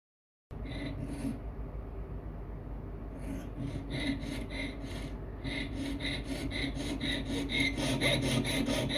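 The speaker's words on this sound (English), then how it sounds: "once we've cut that out with a little saw" A little micro saw cuts a metal bail for an opal pendant in rapid, rhythmic rasping strokes, close and steady, growing slightly louder as the cut goes on.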